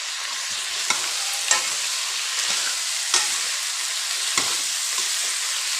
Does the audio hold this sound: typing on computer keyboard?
no